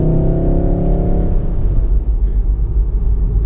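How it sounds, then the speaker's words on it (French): A Volkswagen pulls away gently on a driving-experience track, the engine humming low and steady with a rumbling, slightly fluctuating drone close up. "on fait avancer gentiment la voiture"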